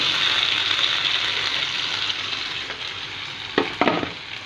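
Potatoes hiss and sizzle in hot oil tempering, a steady loud fry, with a couple of brief clattering stirs near the end.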